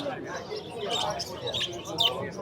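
Small birds, amadina finches among them, chirp and tweet in quick bursts at a bird market in Margilan, with people talking over the busy chatter.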